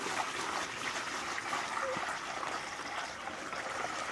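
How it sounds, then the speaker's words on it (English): Water pours from a bucket into a storage container for fig cuttings, a steady close trickling and splashing stream that runs without break for a few seconds. "I start pouring water in here"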